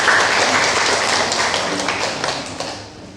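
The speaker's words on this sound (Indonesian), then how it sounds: "boleh tepuk tangan untuk kita semua" An audience at a teachers' association inauguration claps in dense, close applause that peaks at the start and slowly fades over a few seconds.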